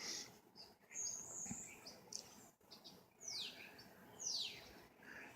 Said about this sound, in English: listen to the birds chirping, just like I am doing now.